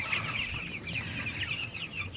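Broiler chickens on a poultry farm in hot weather, a steady dense chorus of clucking and chattering from many birds, fairly distant and continuous with no talking.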